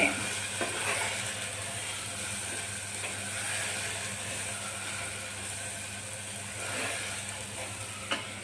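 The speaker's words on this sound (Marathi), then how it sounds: "असं सगळं परतून घेणे" Tomatoes, salt and other ingredients for whole moong dal khichdi being sautéed in a home kitchen pan, a soft continuous sizzle broken by scraping stirring strokes, with no talking.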